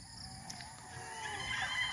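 Gamefowl rooster, a grey hatch cross, crowing on a farm, heard faintly and at a distance within constant noisy outdoor background.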